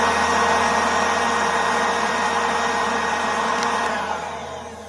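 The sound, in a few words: MZK 20V cordless leaf blower running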